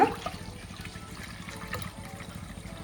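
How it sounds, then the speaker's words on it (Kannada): Water pours steadily into raw mango juice, a soft continuous trickle with a brief splash at the start, close by and fairly quiet. "ಈ ಮಾವಿನ ಹಣ್ಣಿನ ರಸಕ್ಕೆ ಒಂದು ಅರ್ಧ ಭಾಗದಷ್ಟು ನೀರು ಹಾಕ್ಕೊಳ್ಳೋಣ"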